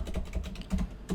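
Quick, uneven clatter of keys on a computer keyboard, several close, crisp taps in a short burst with no voice over them.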